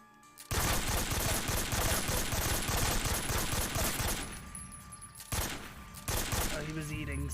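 Rapid gunfire from the Metal Gear Solid 3 video game rattles loudly in dense bursts of automatic shots, pausing briefly twice before resuming, with a faint electronic tone under the volleys.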